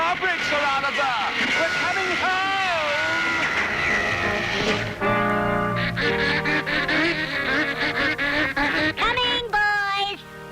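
A cartoon duck, voiced by a performer, lets out a string of warbling, rising and falling quacks, followed by a run of faster honking calls over busy orchestral cartoon music.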